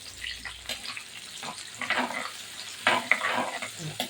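Fish curry ingredients with a pinch of added colour sauté in a pan, giving a gentle sizzle with scattered stirring scrapes and clinks, close and moderately quiet, with no talking.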